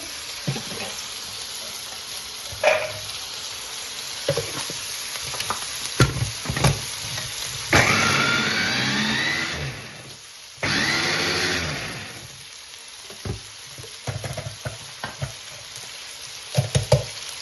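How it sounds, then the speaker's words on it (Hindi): Chicken frying in a karahi for a highway-style Afghani karahi, a steady loud sizzle with bursts of stirring and clatter, plus a brief running tap-like wash partway through; no one speaks. "तो यहाँ पर अभी हम चिकन को इस तरह फ्राई करेंगे"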